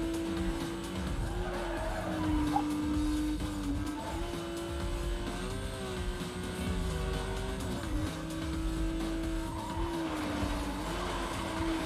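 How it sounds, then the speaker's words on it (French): Race car engines in the video game Need for Speed: Most Wanted (2005) drone steadily throughout, their pitch rising and falling as cars pass, with occasional tire squeal mixed into the continuous roar. "J'aime pas du tout entendre le moteur de mes adversaires dans le casque."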